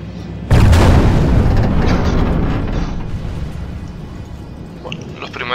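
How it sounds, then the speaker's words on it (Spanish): A catapult shot in a Medieval II siege battle lands as one sudden deep boom, loud and close, then rolls into a long rumbling decay that fades over several seconds. "vamos a acelerar un poco la disparo a las catapultas."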